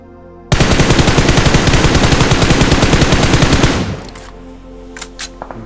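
Rapid automatic gunfire from a battle royale shooter rattles nonstop at close range for about three seconds, then cuts off, leaving quiet background with a few faint distant pops.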